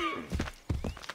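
A horse gallops in Assassin's Creed 3, heard as a quick run of close, soft hoofbeats over a brief stretch with a little game ambience behind.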